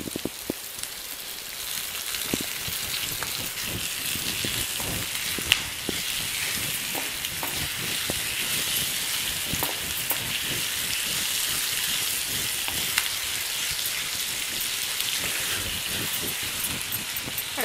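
Tomatoes and green chilies fry in hot oil for a drumstick and egg curry, giving a continuous crackling sizzle with scattered pops, steady and close throughout.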